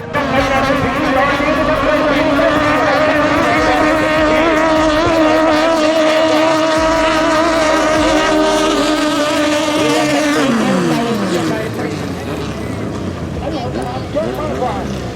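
Big racing speedboats scream across the water in a 5K heavy-class race, a loud sustained engine whine that holds steady then falls in pitch as a boat passes, with wind buffeting the microphone.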